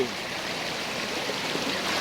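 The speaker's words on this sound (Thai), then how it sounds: "อันนี้ก็ ให้ชมลำธารก่อนเนาะ" A stream flowing steadily outdoors in rural Chom Phu, Kaeng Khoi, Saraburi, Thailand, a continuous broadband rush of water that stays even and unbroken throughout, with no voices over it.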